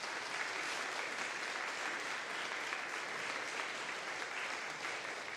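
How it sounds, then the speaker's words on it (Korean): A church congregation applauds to welcome visiting family members during a Christmas Eve service, a steady, even wash of clapping heard from some distance for several seconds. "잠시 일어나시면 우리 박수로 환영하겠습니다"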